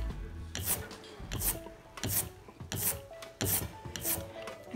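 Sticky, rasping rolls of an inked brayer for block printing repeat in steady strokes, about five passes, each a tacky Velcro-like peeling rub close up with no voices.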